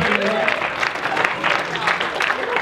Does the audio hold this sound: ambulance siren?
no